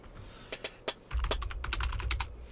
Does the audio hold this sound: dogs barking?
no